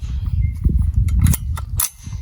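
A home-built AR rifle chambered in .223/5.56 fires at a steel training plate, giving a sharp, close crack and then a second quick metallic report over low outdoor rumble.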